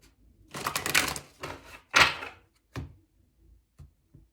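Quick riffling bursts of tarot cards being shuffled close by, two longer runs followed by a few short soft taps and flicks.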